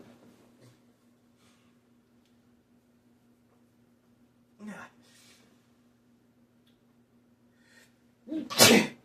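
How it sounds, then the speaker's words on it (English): A single loud sneeze bursts out near the end, preceded by a quieter breathy intake and faint rustles over a low steady hum. "I was having a sneeze attack."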